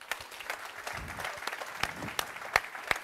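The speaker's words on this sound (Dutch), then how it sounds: "Ik vraag jullie eigenlijk om een hartelijk applaus voor Jan-Kees de Jager." A university discussion audience in Amsterdam applauds a guest speaker's arrival with steady, moderately distant clapping and a few sharper claps standing out near the end.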